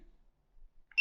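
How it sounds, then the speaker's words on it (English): A fishing drone's remote control, for the Cuta-Copter EX-1, beeps on power-up: a single short, bright electronic tone that sounds loudly right at the end after near silence. "You will hear the beep."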